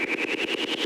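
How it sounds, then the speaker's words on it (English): Several synthesized waves, generated in JavaScript and stacked together, make a dense, buzzy, engine-like drone that pulses rapidly and evenly throughout, with no voices. "if you put many of them on top of each other,"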